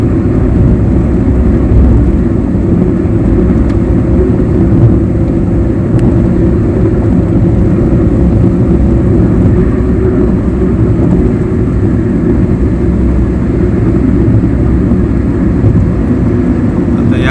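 A car rolls along a bumpy stretch of the Mumbai-Goa highway, NH 66, near Kankavli, a loud steady engine and road rumble heard from inside the cabin with faint knocks from the bumps.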